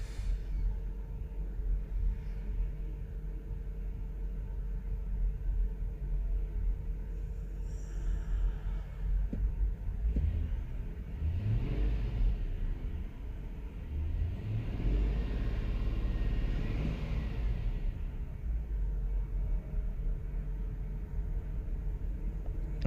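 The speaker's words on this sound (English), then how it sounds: "Now it's misfiring." Rough, uneven engine rumble from a misfiring 4.4-litre V8 in a 2005 Land Rover LR3, heard close, with irregular surges and dips throughout and no talking.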